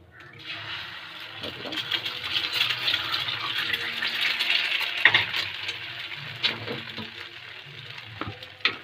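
An egg cracked into a hot pan for noodles, followed by a rising, steady hiss of frying that swells and fades with a few clicks and knocks, a voice speaking over it.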